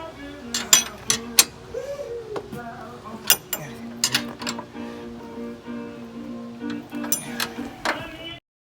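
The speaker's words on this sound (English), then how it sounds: "We'll put it in free spool and pull some out and" Steel winch cable clicking and rattling as it is pulled off a Badland winch drum in free spool, with repeated metallic ratcheting clinks and clanks at close range and a faint voice in the background.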